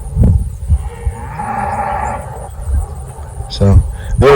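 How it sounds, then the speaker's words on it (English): Cattle at a farm moo in long, drawn-out calls rising over ambient noise, with a person talking in short bursts near the start and end. "So the other cows are jealous."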